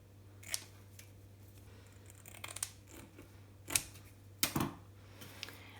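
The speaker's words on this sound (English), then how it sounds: "I'm going to cut this into 3 strips, and I'll be cutting them about 20 centimeters long" Scissors snipping plastic wrap into strips for a model tree trunk, a few sharp crisp cuts at irregular intervals, close and fairly quiet over a steady low hum.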